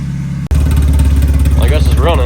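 Turbocharged drift car engine idling loud and close, a steady low pulsing drone with rhythmic mechanical clatter and a faint higher turbo whine, cutting out briefly then resuming.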